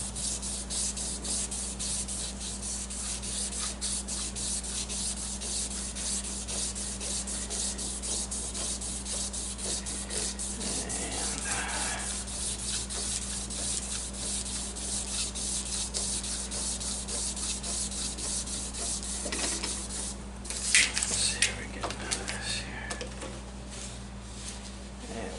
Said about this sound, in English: Slowly but surely polishing this.